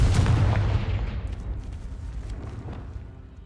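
A blasting-spell explosion in Hogwarts Legacy, a heavy booming burst that hits loud at the start and then rolls off into a long, fading rumble with no talk.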